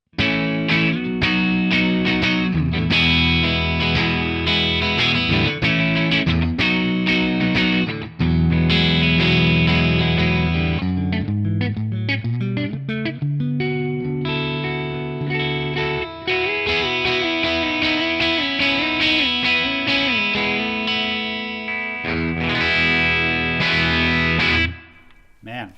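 Electric guitar played through a Tonex Superbass 100 Edge amp capture with a crunchy breakup tone and reverb, sustained chords and ringing notes continuing without a break, loud and upfront with no voices.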